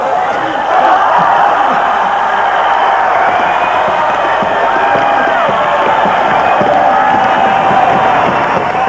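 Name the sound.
crowd applause and cheering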